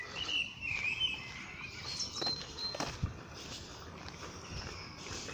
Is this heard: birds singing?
yes